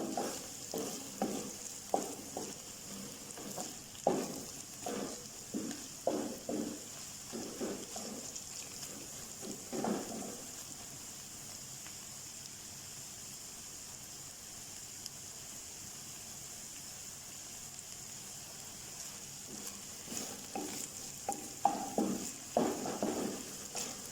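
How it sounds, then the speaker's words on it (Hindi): Boiled chicken pieces and capsicum being stirred in a hot pan, soft scraping strokes and gentle sizzling coming in bursts, quieter for a long stretch in the middle before the stirring picks up again near the end. "हम इसमें चिकन डालेंगे, और साथ ही हम इसमें शिमला मिर्च डालेंगे"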